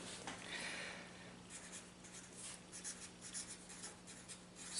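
Pen or marker scratching steadily as a math theorem is written out, a continuous soft scraping with small strokes and pauses, no talking.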